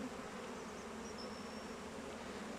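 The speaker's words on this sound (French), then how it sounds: "Donc c'est une colonie d'abeilles noires." Black honeybees from an open hive colony buzz in a continuous, dense drone, close and steady throughout with no voices.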